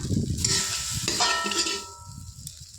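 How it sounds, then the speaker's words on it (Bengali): Soybean chunks frying lightly in a pan, scraped and stirred with a ladle: close metallic scrapes and clinks over a hissing sizzle that fades toward the end. "তো সয়াবিন বেশি ভাজি না, হালকাই ভাজি"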